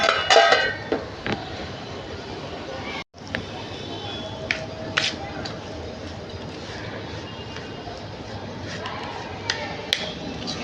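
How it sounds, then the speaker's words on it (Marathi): A lid set onto a pot of homemade raw mango and bhokar pickle topped with hot oil, with a few light metallic clinks and knocks while a person talks over them. "आता याच्यावर मी ठेवणार आहे झाकण"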